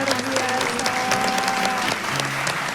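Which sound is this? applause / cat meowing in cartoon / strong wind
applause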